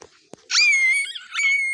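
A person imitates a dog's bark with a shrill, yelping vocal cry, a short sharp burst followed by a sustained squealing howl and a second rising yelp, close and fairly loud against near silence.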